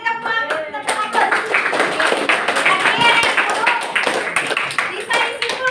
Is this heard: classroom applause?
yes